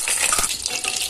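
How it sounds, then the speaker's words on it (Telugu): Boiled eggs frying in hot oil for egg biryani, a steady loud sizzle and hiss throughout with a brief louder burst near the start, no voices. "ముందుగా బాయిల్ చేసి పెట్టుకున్న ఎగ్స్ ని ఫ్రై చేసుకోవాలి."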